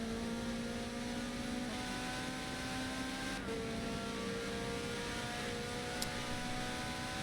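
A Mercedes touring car's engine in a racing video game at the Nürburgring GP drones steadily with a tonal, sustained whine that shifts slightly in pitch, heard at moderate level with no talk.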